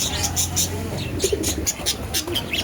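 Soft cooing of Madras pigeons at a pigeon shop repeats several times over a busy background with some chirps and distant traffic.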